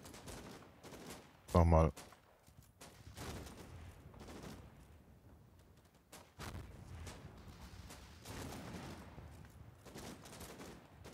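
Gunfire from a house shooting into a forest in Combat Mission Final Blitzkrieg, with a loud sharp burst near the start, then scattered softer shots and rumbling battle noise while someone talks over it.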